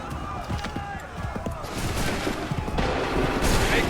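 Musket volleys crack out in Assassin's Creed III Remastered, a loose string of gunshots and a ragged fusillade building over battlefield din, with shouted commands mixed in.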